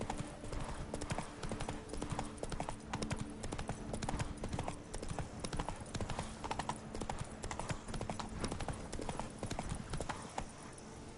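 Hooves of a horse gallop in The Witcher 3 video game on PS5, a fast continuous clip-clop rhythm at moderate volume, with faint speech mixed in.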